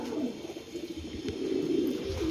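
Pigeons kept for a flying tournament coo continuously and fairly loud nearby, a low throaty murmur running throughout with soft background hiss.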